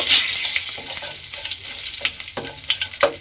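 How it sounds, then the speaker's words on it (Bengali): Black cumin and two slit green chillies sizzle in hot oil as a tempering, a steady close crackle with a few sharp pops and light stirring scrapes, no voices. "আমি অল্প সামান্য একটু কালো জিরে ফোড়নে দিলাম দিয়ে ফোড়নটা আমি একটু ভেজে নেব"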